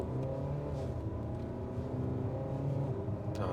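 A 2023 Hyundai Palisade in sport mode accelerates hard from 0 to 100 with traction control off, heard from inside as a steady loud engine drone rising through the gears.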